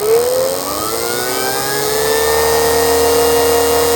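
Rotax 582 two-stroke engine winding up to higher RPM during an ignition check, a steady loud drone with whining tones rising in pitch over four seconds, alone without talk.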